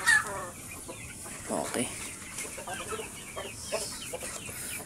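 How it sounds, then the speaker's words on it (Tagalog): Rhode Island chickens cluck softly in a pen, scattered faint clucks and calls at moderate distance, with a brief spoken word near the start. "Unti-unti dumadami na yung mga alaga nating Rhode Island na manok."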